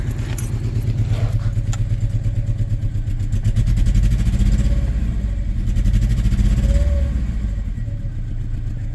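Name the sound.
cheap beater car engine idling roughly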